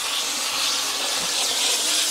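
A handheld steam cleaner hisses steadily and loudly while detailing a dirty car interior, a continuous close broadband rush with no talk.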